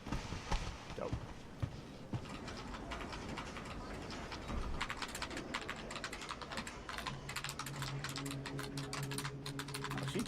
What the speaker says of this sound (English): She was typing.